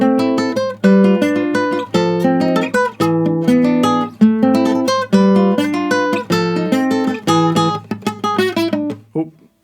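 Guitar playing the Resident Evil 4 Remake shooting range theme, loud, clear picked notes and chords in a steady, slightly uneven rhythm that thin out and stop at the end.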